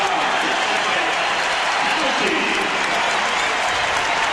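Basketball arena crowd reacting to Dennis Rodman's hustle play during a 1996 Suns game, a steady dense roar of applause and crowd noise with mixed voices, loud and continuous throughout.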